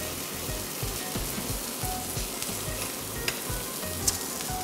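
Kunafa fries in ghee in a pan with a steady, dense sizzle and crackle throughout, close and continuous, with a few sharper pops near the end and no talking.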